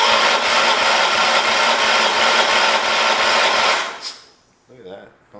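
A 1978 John Deere 316 garden tractor engine cranks over loudly and steadily with a rhythmic starter churn for about four seconds, then stops, leaving quieter handling sounds and a brief voice.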